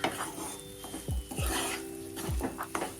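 Crushed edible gum roasting with a flour mixture in a pan for gundar sukhdi, a faint dry sizzle under several sharp spoon scrapes and clinks against the pan, close and without talk.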